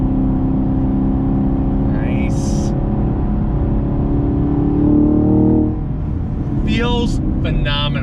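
Chevrolet Camaro SS 1LE V8 pulling hard on a race track, a steady loud engine drone that swells toward a peak and then eases off, with someone speaking briefly over it.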